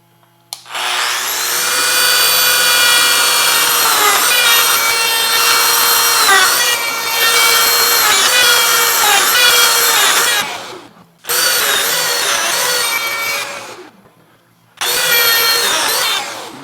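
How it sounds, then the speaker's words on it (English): A power tool cuts joinery in wood for a bathroom vanity. It gives loud, sustained whining runs of about ten seconds, then shorter bursts separated by brief pauses, with no talking. "I can cut all of my joinery"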